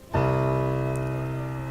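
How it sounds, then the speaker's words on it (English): A single low piano note struck once and left to ring, its deep tone slowly fading. "the bass, which goes very low, just like this on the piano"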